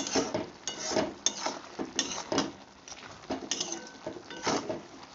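Vegetables being sautéed with coriander and cumin powder in a pan, with repeated scraping and stirring strokes of a spatula against the pan and a soft sizzle underneath, steady and close.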